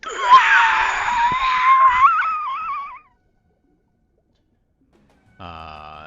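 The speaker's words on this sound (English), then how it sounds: "As you can hear the psychic screams." Psychic screams from a tabletop fantasy game scene: a loud, wavering, eerie shriek sustained for about three seconds, then silence, then a short tonal swell at the end.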